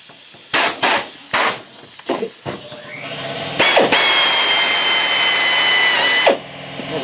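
A power drill works on a cracked car bumper, first a few short sharp bursts, then a longer sustained loud whine as it bites into the plastic, close by with no speech.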